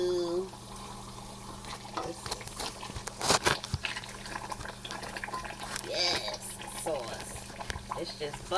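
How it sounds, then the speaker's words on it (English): Pasta sauce in a pan bubbles and pops, with scattered wet plops and bursts, some sharp stirring clicks and a spoon sound, close up, alongside a faint background hum. "It's just bubbling all over the place."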